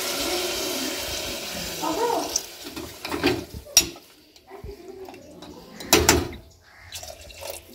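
Water sloshes into a pan of lightly fried vegetables with butter, a splashing pour broken by a couple of louder clatters of the pot, close up and with no talk over it.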